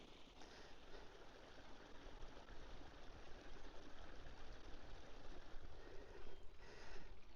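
A river runs steadily beside a hillside walking route in the Brecon Beacons, a continuous close rushing wash of water that stays fairly even throughout.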